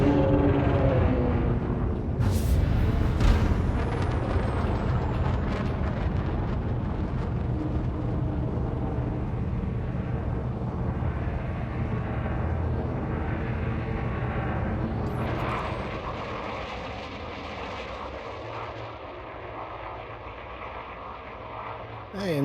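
Spacecraft lifting off in a video game during a surface recovery mission, a loud continuous roaring rumble with a rising whine early on that thins and fades toward the end.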